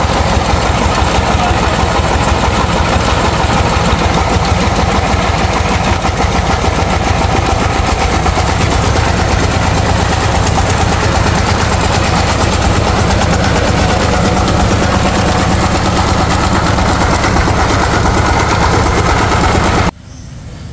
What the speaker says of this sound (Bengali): এখন হচ্ছে গাড়িটা স্টার্ট করে আপনাদের সাউন্ড কন্ডিশন দেখাবো